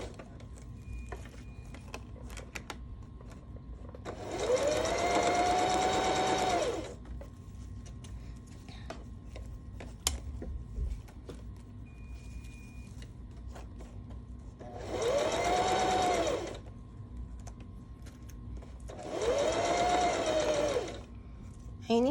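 Sewing machine stitching an invisible zipper onto sequin fabric, three separate runs of fast, steady whirring with quiet pauses between them.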